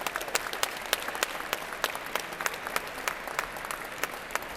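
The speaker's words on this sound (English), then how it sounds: "Let's give them a big round of applause" Steady audience applause fills an awards ceremony hall, dense clapping from a sizeable crowd continuing throughout at moderate level with no talk over it.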